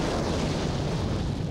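An explosion as a German Mark III tank is knocked out, heard as a dense broadband roar and rumble filling the whole moment, loud and continuous without a distinct onset.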